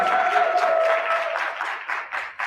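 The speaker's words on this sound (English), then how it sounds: "So if you want to give Roy a round of applause as well." A crowd claps steadily for Roy at a Men's Health Month and Juneteenth celebration, dense and fairly loud, with a held tone ringing underneath early on before the clapping thins toward the end.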